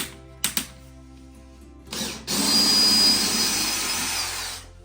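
A power drill drives a screw during a bathroom demolition: a couple of sharp clicks, then a loud, steady whir that runs close for several seconds with no talk.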